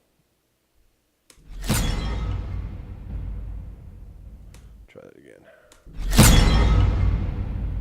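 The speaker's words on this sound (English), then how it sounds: "There's a little glass break sound." An impact sound effect with a small glass break cracks in twice, each time a sharp hit that leaves a long, fading tail, with a brief spoken remark between the two hits.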